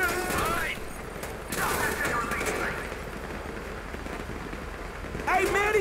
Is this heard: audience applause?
no